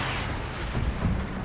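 Artillery fires in a tank video game as a dense, low rumbling boom that fills the whole short moment, heavy and continuous, with no talking over it.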